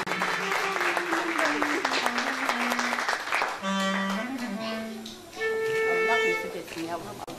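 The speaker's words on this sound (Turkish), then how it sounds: "Alkış gelsin." Guests applaud at a wedding celebration in Turkey. Brisk clapping fills the first half, then a voice and tonal sounds take over as the clapping thins out.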